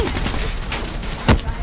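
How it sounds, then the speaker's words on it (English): Gunfire in Call of Duty: Black Ops 3, a dense rattling burst of rapid shots with one heavier bang near the end, loud and busy throughout. "Oh my god, they're shooting at us."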